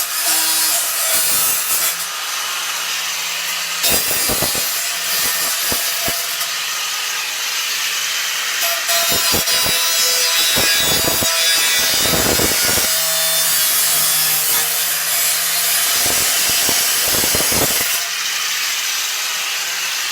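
A Total angle grinder cutting, with a loud continuous abrasive whine and grinding rasp that repeatedly dips and surges as the disc bites and lifts, close and with no talk.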